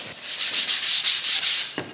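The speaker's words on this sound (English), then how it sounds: "I start by hand sanding the varnish." Hand sanding of varnish on small mahogany and maple boxes, a close, loud scratchy rasp repeated in quick, regular back-and-forth strokes, about seven in a row, then a final short stroke.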